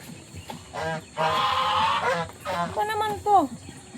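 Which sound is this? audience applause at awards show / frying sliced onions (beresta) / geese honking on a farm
geese honking on a farm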